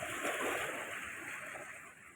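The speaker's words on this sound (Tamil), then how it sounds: "தண்ணி கொப்பளிக்குது" The flooded Kaveri river at Erode churns and bubbles, its full flow from the opened Mettur dam making a continuous rushing wash that slowly fades a little toward the end.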